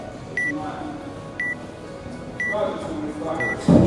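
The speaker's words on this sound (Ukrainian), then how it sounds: "Включаю таймер." Short electronic beeps from a timer sound at roughly one-second intervals, four in a row, over a low background hum.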